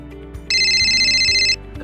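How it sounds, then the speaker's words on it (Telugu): A phone ringtone for an incoming call chimes as a steady electronic tone for about a second, loud and close, with low background hum and no talking. "కార్తిక్ గారు ఏంటి ఇప్పుడు ఫోన్ చేస్తున్నాడు?"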